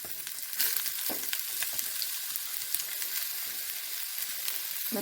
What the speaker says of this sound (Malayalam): ആ ഇഞ്ചി അരിഞ്ഞ് വെച്ചിങ്ങനെ വറുത്തെടുക്കാം